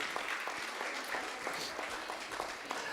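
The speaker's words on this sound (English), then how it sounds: "Can we give another round of applause, please?" Audience applause fills the hall at a university vice-chancellor's distinguished awards ceremony, a steady, fairly distant wash of many hands clapping with no one speaking.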